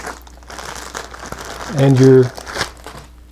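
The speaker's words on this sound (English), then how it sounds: "In the white box is a plastic bag that is Ziploc closed" A plastic Ziploc-closed bag taken from a white kit box crinkles in a short, loud burst close by, after a stretch of speech and handling noise.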